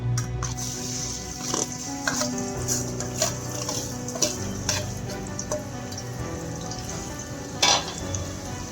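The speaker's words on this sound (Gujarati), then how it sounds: "ગરમ થઈ ગયો છે, હવે આપણે નાખીશું ડુંગળી." Onions frying in hot oil in a kadai for a Gujarati desi chana curry, a steady close sizzle with occasional stirring clinks and scrapes throughout.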